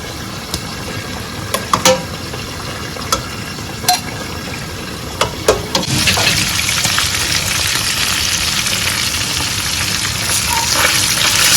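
A few light clanks and taps, then a loud, steady sizzle of beef frying in hot oil in a pot for stew that fills the rest of the clip.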